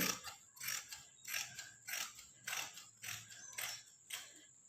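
Scissors snip through old uniform skirt fabric in a steady series of about seven or eight crisp, close cuts, each a short rasping slice, with no talking.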